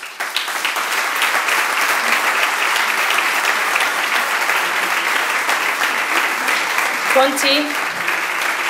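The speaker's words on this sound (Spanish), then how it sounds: "les demos el aplauso que ellos también se merecen" Steady audience applause at a political party candidate list presentation for a mayoral election, sustained and fairly close throughout, with a voice briefly calling out a name over the clapping near the end.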